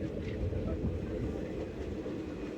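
An express train speeds along a hilly Malnad railway route toward Kundapura, its low, dense rumble steady and fairly quiet, heard from inside without any voices.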